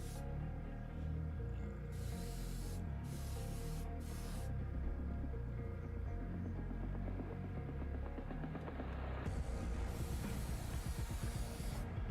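Airbrush spraying scale model paint: a steady, continuous hiss of air and paint running throughout, with bursts of brighter hiss where the trigger is opened wider, close to the microphone and alone.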